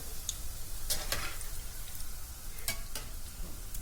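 Doughnuts fry in hot oil in a home kitchen, a steady bubbling sizzle broken by sharp crackles and spits every so often, close and fairly loud with no talk.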